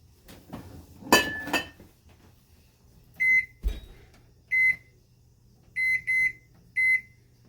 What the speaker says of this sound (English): 9-minute timer.